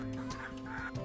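Large young Larmod chickens, being selected as future breeding hens, cluck steadily in a pen, with several overlapping close calls over a constant low background hum.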